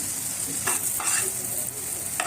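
Stuffed green chillies fry and sizzle in a pan, a steady close crackle broken by a few louder stirring scrapes.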